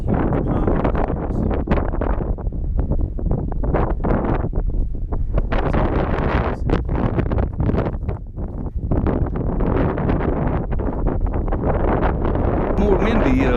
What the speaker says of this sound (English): More windy on the OT trail than it was on the other one